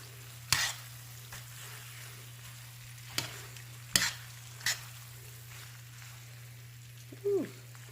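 A pan of jerk chicken rasta pasta sits cooking on a stovetop with a steady low sizzle and bubbling. A steady hum runs underneath, and several sharp clinks and scrapes of utensils on the pan break in at intervals.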